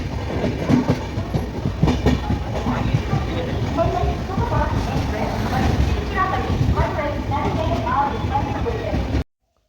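The Nellai SF Express, Chennai to Tirunelveli, rumbles loudly with rhythmic clickety-clack from the wheels, heard from inside a sleeper coach, with muffled voices beneath the noise.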